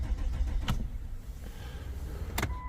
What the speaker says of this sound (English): now it's cranking but no ignition